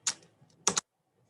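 Computer keyboard keys are tapped in two short quick clusters while AutoCAD commands are entered, close and quiet in an otherwise silent room.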